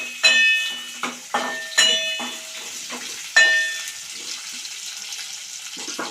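Onions fry in a pan while a paneer dish is cooked: a soft sizzle runs underneath, broken by several sharp metallic clinks and scrapes of a spoon against the pan, close and clear.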